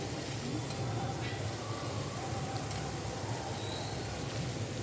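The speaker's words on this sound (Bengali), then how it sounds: "দিয়ে এটাও একটুখানি ভাজা ভাজা করে নেব" Sweet corn and vegetables frying in a pan for a stuffed tomato recipe, a dense steady sizzle heard close up, continuous with faint stirring scrapes.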